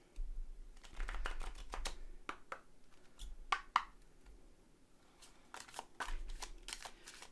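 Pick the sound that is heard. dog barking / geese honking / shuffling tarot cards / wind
shuffling tarot cards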